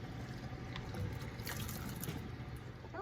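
Boiled pearl onions tipped into cool water waiting in a kitchen sink, a soft continuous watery slosh and trickle, fairly quiet and steady with no talking.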